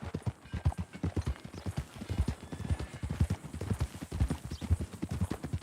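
Horse hooves in Red Dead Redemption 2, a steady run of rhythmic clip-clop footfalls, fairly close and clear, with no talking over them.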